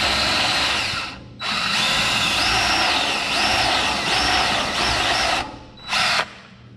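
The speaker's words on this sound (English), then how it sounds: "So what I'm gonna do is just drill a little bit from the back side" A power drill with a step bit bores into half-inch Lexan from the back side while a forestry windshield is built for a John Deere 35G. It whines loud and close in long runs, with brief pauses and a final short burst.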